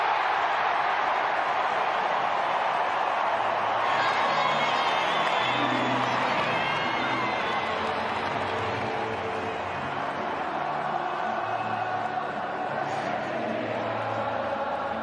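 A football stadium crowd roars and cheers after a goal, a broad sustained wall of voices and whoops from far off that swells and holds throughout.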